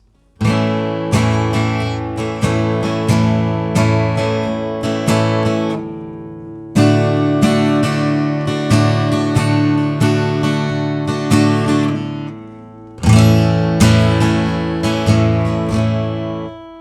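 Guitar strumming plays in three bursts, each fading out before a short gap, so the rhythm stops while the chords change.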